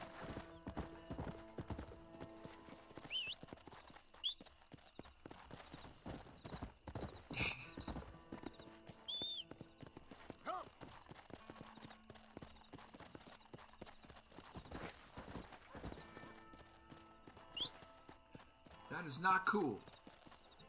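Hooves of a horse named Shadow clip-clop in Red Dead Redemption, a steady walking rhythm running under the game's ambient sound, with a whinny or two and someone talking over it.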